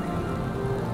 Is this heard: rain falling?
yes